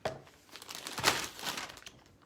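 A plastic bag crinkles and rustles up close as zucchini pieces are dropped into it, with irregular bursts of crackling and one sharper crunch, and no talking.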